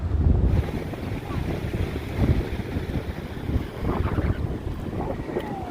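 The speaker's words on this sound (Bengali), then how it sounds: "যাই বলো আর তাই বলো সমুদ্রে আসলে এই হাওয়াটা" Sea wind at Bakkhali beach blows steadily across the microphone, a loud continuous rushing roar with gusty swells throughout and no talk.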